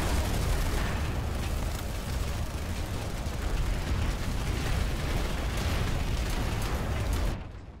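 Dense, continuous barrage of gunfire and explosions from a PlanetSide 2 firefight, a loud unbroken wash of bursts and booms that holds steady before cutting off abruptly near the end.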